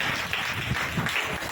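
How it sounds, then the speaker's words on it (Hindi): Crowd applause at a Hindi Christian church service, a steady continuous wash of clapping from many hands, fairly close and filling the whole moment with no one speaking. "ताली बजाओ ना"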